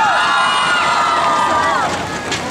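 An outdoor crowd at the Hualien summer carnival concert in 2018 cheers and shouts, with excited voices and whoops rising together, loud and fairly close, sustained for a couple of seconds.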